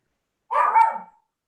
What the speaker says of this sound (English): there's my dog again